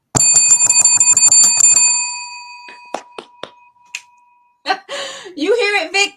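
A small hand bell rings in a rapid series of about a dozen bright strikes, then lets its tone fade out. Sparse clicks follow, and talk comes in near the end.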